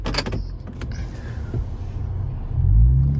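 A Toyota Tundra pickup pulls out of a parking lot with a steady low engine rumble that swells louder and deeper near the end.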